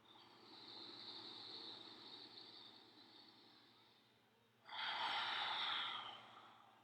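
Slow, deep nasal breaths during a yogic breathing exercise, one long steady inhale, a brief pause, then a stronger, rougher exhale, close and audible over a low background hum.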